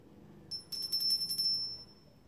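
A small bell rings with a bright, sustained high tone, struck several times in quick succession before fading, with a faint low hum behind it.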